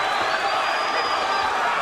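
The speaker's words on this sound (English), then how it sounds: "The crowd on its feet." A boxing crowd on its feet at a junior middleweight title fight, Alejandro Garcia vs. Jose Antonio Rivera, roars in a steady, dense wall of cheering, with a commentator's voice faintly mixed in.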